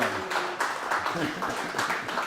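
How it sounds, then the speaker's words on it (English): An audience applauds after a classical guitar performance at Casino Guitars, a moderate burst of clapping in uneven waves with someone talking over it. "round of applause, man. This guy's I gotta clap."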